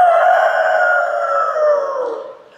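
A performer on a televised singing show imitates a rooster crowing at dawn, a single loud, drawn-out, strained call that slides slowly downward and fades at the end, heard alone without other sounds.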